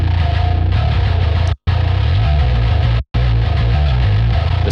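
A loud, dense bass track from a mix of a song, processed with split-band compression and distortion on the upper range, plays continuously with two abrupt brief cuts to silence.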